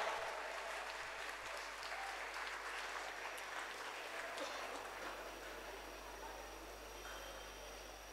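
Audience applause at an award ceremony, a steady dense wash of clapping from a crowd, fairly distant and even throughout.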